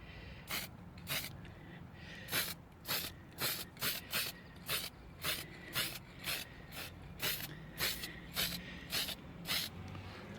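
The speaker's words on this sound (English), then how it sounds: "literally all I'm doing is giving it a quick spray" Short hissing bursts of an aerosol spray paint can on rusted metal, repeated in quick irregular pulses, close by and fairly loud, with no talking.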